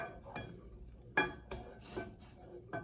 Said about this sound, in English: we're going to stir in the chocolate